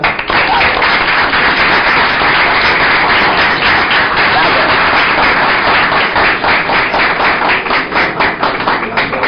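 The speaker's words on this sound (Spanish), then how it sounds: "quisiera pedir al público un aplauso." A studio audience applauds at the close of a Spanish-language television interview show, a dense, steady wash of many hands clapping that holds at full strength for about nine seconds with no voices over it.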